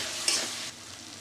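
Spiced masala for a Bengali egg curry fries and is stirred in a pan, a brief, close sizzle with a scrape of the spoon.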